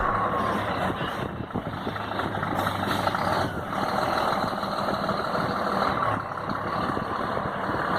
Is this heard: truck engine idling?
yes